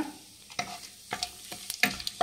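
Whole spices and a bay leaf fry in hot oil in a home kitchen while chicken masala is being made. A soft sizzle runs under a few sharp scrapes and taps of stirring spread across the short stretch, with no voices.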